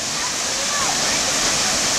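Khun Korn waterfall roaring in a steady, dense wash of falling water, loud and continuous with no breaks.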